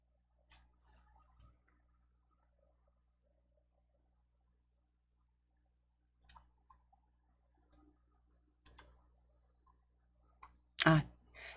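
A computer mouse clicking to open a folder: sparse, crisp, close clicks in small clusters, with long quiet gaps between them and a louder double click near the end.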